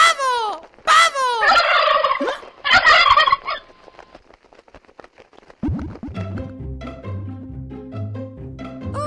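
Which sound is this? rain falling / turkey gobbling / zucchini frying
turkey gobbling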